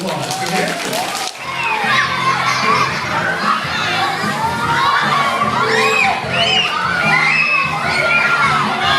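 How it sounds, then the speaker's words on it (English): Elementary school children at a graduation assembly cheering, shouting and clapping in a loud, sustained burst of crowd noise that fills the room after a brief pause. "Give her a big round of applause."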